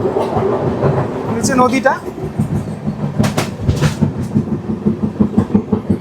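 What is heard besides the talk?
scenic train clattering along rails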